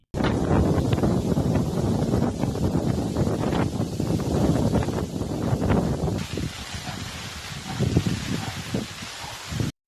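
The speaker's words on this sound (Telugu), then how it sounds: "ఇవాళ ఉదయం నుంచి ఈదురుగాలులు వీస్తున్నాయి" Strong, gusty cyclone wind in Eluru district roars as a loud, continuous broadband rush with microphone buffeting and rustling, weakening slightly toward the end, with no voices.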